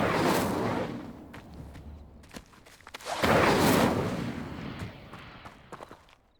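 An Incendio fire spell cast in Hogwarts Legacy, heard as two loud whooshing bursts of roaring flame with crackling impacts between them, close and without talk.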